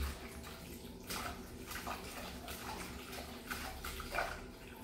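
Bitter gourd (ampalaya) is rinsed under running tap water, a steady close splashing flow with uneven surges as the vegetable is handled, heard alone without speech.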